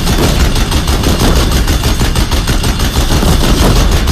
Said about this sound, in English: The Deathbringers keep firing.